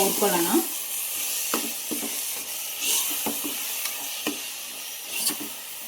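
Ground masala paste fries in a pan for methi pulao, with a steady hiss and sizzle broken by scattered stirring scrapes and taps close by.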